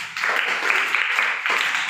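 A class of children claps together in a coaching classroom, a dense burst of applause that breaks off briefly and resumes.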